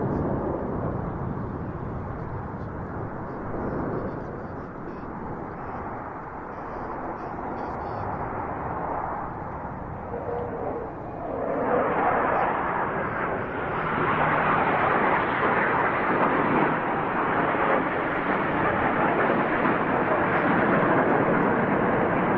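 Black Eagles aerobatic team jets flying a display manoeuvre at the Royal International Air Tattoo, with a broad distant jet roar that swells louder halfway through and holds steady.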